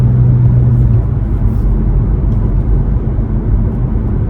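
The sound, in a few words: car driving on the German Autobahn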